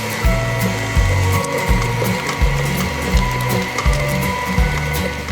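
Stand mixer whipping lard for tamale masa, running loud and close with a steady motor whir and a rhythmic, repeating knocking churn as the beater turns through the fat.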